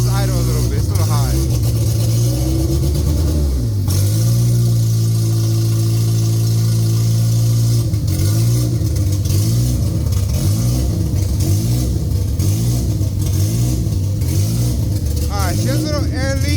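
Honda Civic engine idling high, then revving in repeated bursts with rising and falling pitch, loud and close, with a person talking over it.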